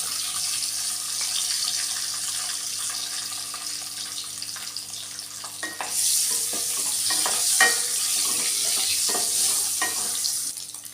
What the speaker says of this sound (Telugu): ఐదు ఎగ్స్ని ఇందులో వేయించుకోవాలి